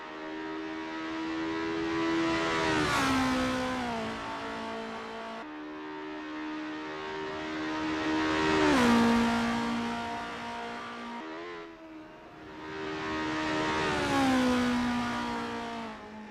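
A formula race car in the Assetto Corsa racing game runs a practice out lap on the Estonia-25 track. Its engine whines up through the revs and drops at each shift, repeating in three long, steady climbs.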